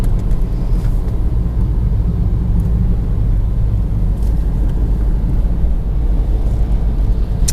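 A 2015 BMW 320d F30 diesel sedan driving in third or fourth gear, giving a steady, loud low rumble of engine and road noise with wind buffeting throughout and no voices.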